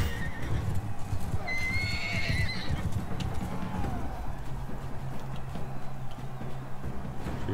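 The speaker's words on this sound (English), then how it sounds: "Smashed up his horse." In the Mount and Blade 2 Bannerlord video game, a horse neighs in a brief whinny amid hoofbeats and a constant rumbling battle din, with no talk.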